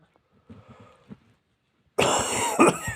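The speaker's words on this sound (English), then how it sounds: "Oh dear, I'm coughing." An elderly woman coughs several times at close range in a quiet room, followed by a louder, harsher burst of coughing and throat clearing.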